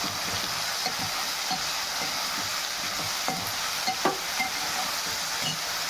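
Tomato and brinjal pieces stirred in a frying pan over a steady sizzle of oil, with soft, close spoon scrapes and light knocks at irregular intervals through the constant hiss.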